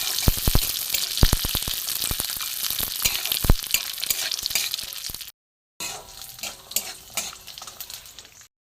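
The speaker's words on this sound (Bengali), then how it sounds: "বাদাম নারকোল কিশমিশ খেজুর এটাকে আমি সেখানে ভালো করে ভেজে নেব" Dry fruits (nuts, coconut, raisins and dates) fry in a pan with a steady loud sizzle and repeated sharp stirring clacks, then a brief break before quieter frying resumes.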